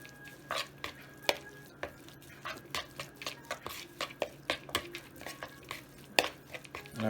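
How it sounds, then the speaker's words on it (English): A crab cake mixture is stirred together with vegan mayonnaise in a bowl, with a steady run of short, soft scraping and tapping strokes at close range. "and then we're going to mix it up, all right?"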